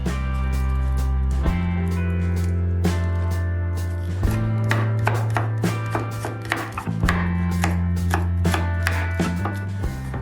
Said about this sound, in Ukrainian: Дрібно нарізаємо та додаємо до м'яса